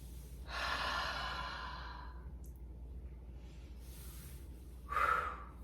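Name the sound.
deep breath in during breathing exercise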